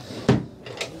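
A drawer or cupboard door on a sailing yacht's galley slides and knocks shut once, loud and close, followed by a fainter second bump.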